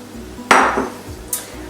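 Caster sugar and butter tipped into a mixing bowl, a single soft thud and rustling slide into the bowl, close and brief, with a faint clink near the end.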